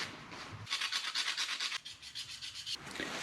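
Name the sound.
wiping and scraping Toyota 4Runner brake backing plates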